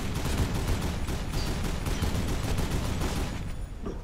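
Sustained, dense gunfire from the zombie survival video game Dead Island, with rapid rattling bursts that fill the clip at a steady loud level and no talk over it.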